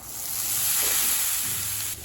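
Boiled chana dal being sautéed in a pan for sundal, a soft steady hiss of frying that holds evenly for about two seconds, close and alone.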